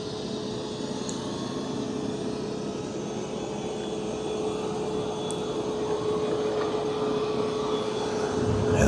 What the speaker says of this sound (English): Now I do have the suction ramped up pretty high, so it is a little loud, but it's doing a good job of vacuuming.